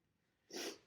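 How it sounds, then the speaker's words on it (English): A single short, forceful nasal blast of air, close and fairly loud, lasting about a quarter second after quiet. "I gotta blow my nose."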